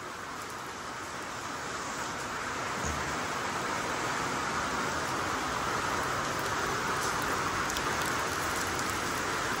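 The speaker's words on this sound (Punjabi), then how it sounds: "ਇਹਦੇ ਟੀਨਾ ਪਰ ਬਾਰਿਸ਼ ਦੀ ਆਵਾਜ਼ ਆ ਰਹੀ ਆ" Heavy monsoon rain pours onto tin roofs in Punjab, a loud, steady, dense hiss of drumming drops that holds unbroken throughout with no voices.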